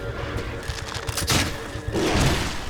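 Two loud bomb blasts go off in The Evil Within, a horror video game: a sharp booming burst near the middle, then a second heavy rumbling explosion that lingers to the end over a low, busy game soundscape.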